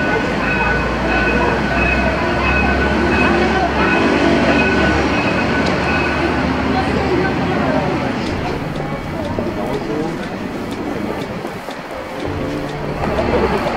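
A Paris metro line 14 train rumbles along loudly with steady rail noise and some high squeals, voices murmuring underneath throughout.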